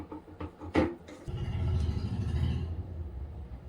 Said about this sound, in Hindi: अच्छे से एक बार मिक्सी में चला लूंगी।